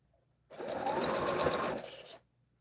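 A sewing machine stitches quilt blocks in one steady, close run of rapid mechanical whirring lasting under two seconds, starting and stopping cleanly against quiet surroundings.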